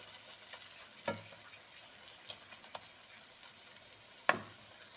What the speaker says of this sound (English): I'm going to mix, give a good coating for the bindi with the masala